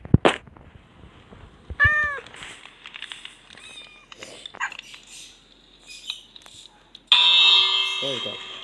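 Minecraft cats meowing in a village game world, several short rising-and-falling mews scattered across the clip amid soft game sounds, with a louder burst of noise near the end.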